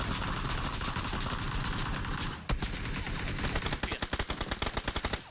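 Rapid automatic gunfire from a video game, loud and continuous bursts that grow into sharper, distinct rattling shots after a brief break midway, with no talk.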